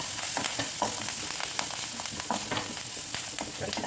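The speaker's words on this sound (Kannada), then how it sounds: "ಕರ್ಬೇವಿನ ಸೊಪ್ಪು ಚಟಪಟ ಅಂತ ಸೌಂಡ್ ಮಾಡ್ತಾ ಇದೆ." Curry leaves fry in hot oil with a dense, continuous crackle and sizzle, sharp pops scattered throughout, close up and steady.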